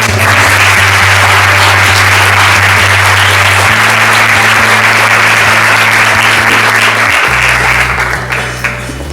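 A large audience at a talk by Eduardo Madina at the Ateneo claps steadily and loudly throughout, a dense wash of applause with a low hum underneath that shifts partway through.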